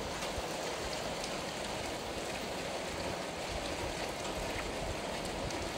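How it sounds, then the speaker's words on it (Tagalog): Heavy rain pours steadily in a dense, unbroken hiss, loud and constant with no pauses or voices. "Ang malakas ang ulan."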